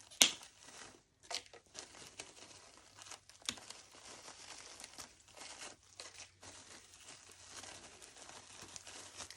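Materials for a spring crescent wreath are trimmed with soft, quiet crinkling and rustling, plus a few sharper snips and crunches close by.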